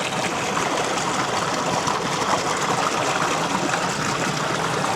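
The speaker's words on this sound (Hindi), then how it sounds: "अब आपको सुना दूँ भाई ट्यूबवेल की भी आवाज़।" Water gushes and splashes continuously from a tube well pump used for irrigation, a steady rushing flow pouring into a channel, close and unbroken with no talking.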